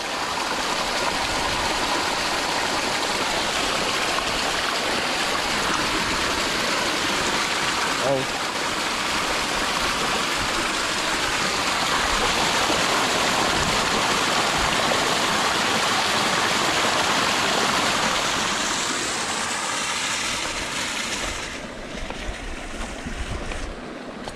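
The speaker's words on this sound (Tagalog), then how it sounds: "Sobrang lakas ng tubig." A fast, swollen stream after rain rushes in a loud, steady roar of churning water, continuous and close, while people speak briefly over it.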